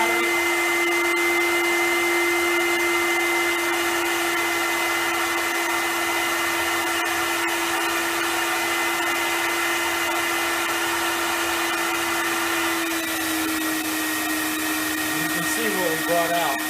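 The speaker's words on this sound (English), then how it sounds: "So turn on the vacuum" A vacuum extractor runs continuously while cleaning, a loud steady whining motor drone with a constant pitch that wavers slightly near the end, with no talk over it.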